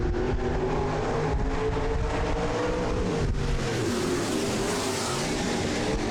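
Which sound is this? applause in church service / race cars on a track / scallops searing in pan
race cars on a track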